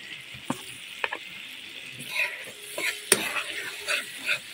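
Minced garlic hits hot melted butter in a pan for buttered garlic shrimp, giving a soft, close sizzle with scattered crackles and a few utensil scrapes and clinks while it is stirred.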